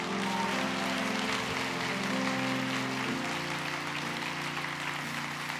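A church congregation claps to welcome a pastor during a young adults' prayer service, a sustained hiss of applause under steady held keyboard or organ chords.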